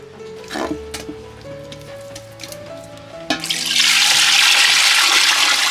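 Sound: pouring drinking water into pot

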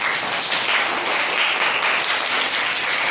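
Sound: children clapping in a classroom

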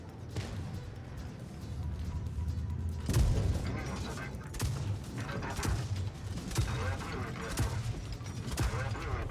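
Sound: tank cannon firing in video game WoT Blitz

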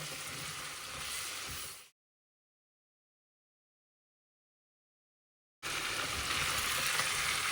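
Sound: stirring frying onions for plov

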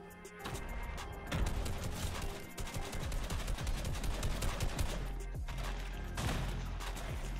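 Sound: gunfire and grenades in Fortnite video game

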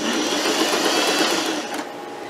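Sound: sewing machine gathering skirt fabric

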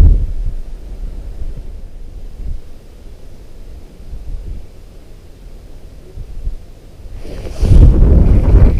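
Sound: wind blowing into microphone

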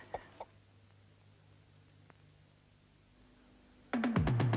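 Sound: chicken clucking in a Rowntree's mint egg advert

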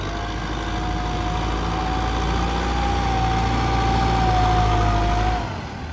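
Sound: M6240SUH tractor engine pushing heavy sand and clay

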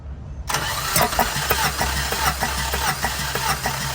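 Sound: Tata vehicle engine cranking during cylinder compression test

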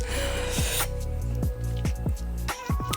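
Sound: kneading fish mince by hand for cutlets

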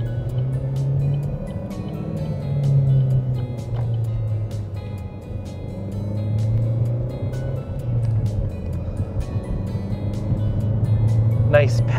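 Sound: 2014 Chevrolet Sonic RS 1.4T four-cylinder engine while driving

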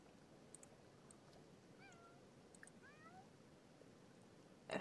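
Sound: cat meowing in The Sims 4 video game

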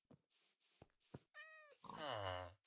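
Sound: white cat meowing in a video game

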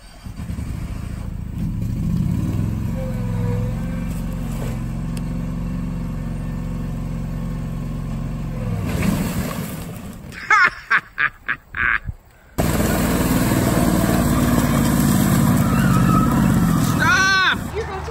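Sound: tractor engine running

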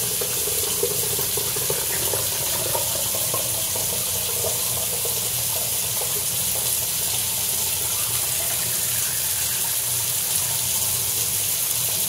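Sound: pouring Blix film-developing chemical back into container

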